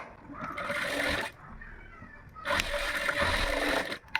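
Sewing machine stitching a lining blouse, running in two bursts of steady whirring with a short quieter pause between them.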